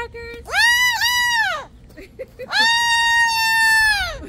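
A pet parrot letting out two long, loud harmonic squawks close by, each about a second long, with a short gap between them.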